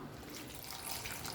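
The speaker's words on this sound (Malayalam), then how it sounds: "കുറച്ച് വെള്ളം ഒഴിച്ചു കൊടുക്കാം." Water pours steadily into a pan of chopped pineapple for a sago payasam, a soft, continuous splashing close up with no voices.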